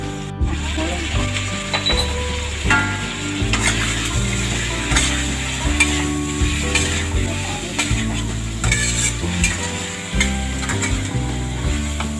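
Pork belly stir-fries in a pan for palo stew, with a constant sizzle and rhythmic scraping and rattling of a spatula against the pan, close and loud over a steady low hum.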